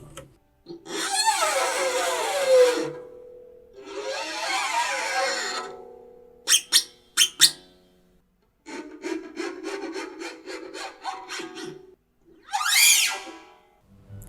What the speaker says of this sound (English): One technique that I encountered before is the peak scraping.